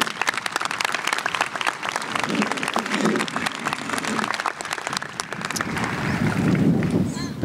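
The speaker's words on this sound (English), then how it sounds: "you deserve a round of applause" An audience at a 2024 high school graduation ceremony applauds in a dense, continuous wash of clapping that holds steady throughout and swells slightly toward the end.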